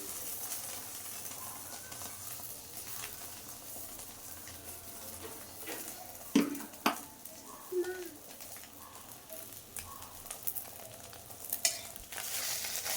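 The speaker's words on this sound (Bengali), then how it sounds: "এইভাবে উল্টিয়ে উল্টিয়ে ভাজবেন। হ্যাঁ, খুব সুন্দর হবে ডিম ভাজাটা।" Rolled egg omelette frying in a pan, a soft steady sizzle with occasional scrapes and taps as the egg is turned and rolled over, a few sharper clicks near the end.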